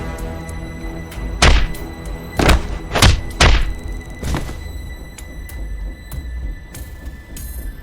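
Four heavy punches land on a character in a video game, dull thudding blows spaced a second or so apart over steady background music, with no talking.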